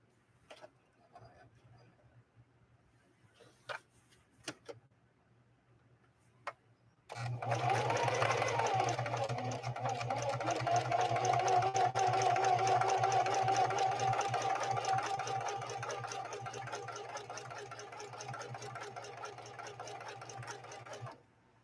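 A Singer 4411 heavy-duty sewing machine stitches a blind hem after a few sharp clicks and taps, running in one sustained fast whirring burst of about eight seconds, then carrying on at a slightly softer, even hum.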